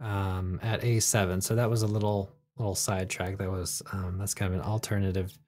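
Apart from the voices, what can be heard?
No everyday noises stand out.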